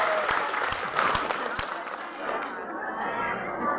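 Applause at a speech event: a crowd clapping steadily with a few sharp nearby claps at the start, then a dense wash of clapping mixed with murmuring voices, moderately loud.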